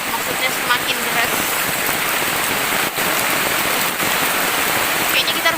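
Heavy rain pours down in a forest where a treehouse is being built, a dense, continuous hiss of drops striking leaves and surfaces, loud and unbroken.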